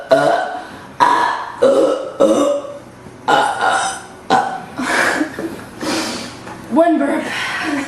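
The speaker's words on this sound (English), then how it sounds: "one burp." Loud, deep burps from a woman, one after another in a rapid series of about eight separate belches, each with a sharp onset and a throaty, drawn-out tail, close to the microphone.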